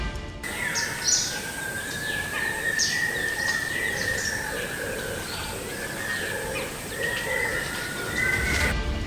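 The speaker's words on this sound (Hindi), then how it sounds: "बाघ का खौफ इस कदर होता है कि वहाँ चिड़िया भी चहचहाने लगती है" Birds chirp in a tiger-inhabited forest at Bagaha, India, with scattered short calls over a steady tonal drone and a constant background hiss, fairly distant and continuous.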